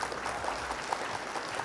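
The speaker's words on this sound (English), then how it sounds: "Round of applause for our friends." Applause from a small audience after a game ends: a steady wash of dense clapping at moderate volume that carries on evenly throughout.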